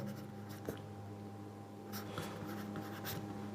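A pen writes an answer on paper during an English lesson, making faint scratchy strokes in short bursts over a quiet room hum.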